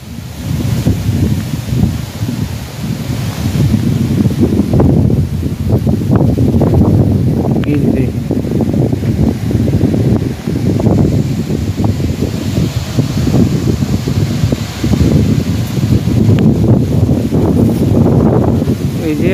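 Strong storm wind gusts loudly and continuously during an approaching rainstorm, with rushing, rustling noise and mic buffeting throughout, swelling in several surges.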